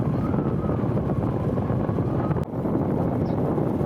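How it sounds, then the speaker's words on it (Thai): Strong wind buffets the microphone in a steady, loud roar outdoors near a cement and mineral works, with no voices. "โอ้ลมแรงครับ"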